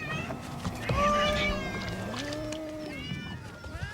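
Cats meowing around a fishing boat returning to an island harbour, several rising and falling meows overlapping against water and harbour background, moderately close.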